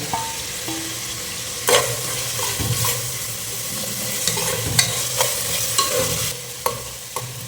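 Cinnamon, cloves and cardamom sizzle in hot oil in a pan for a mutton gravy, a steady close frying hiss with scattered crackles and light scraping stirs throughout and no voices.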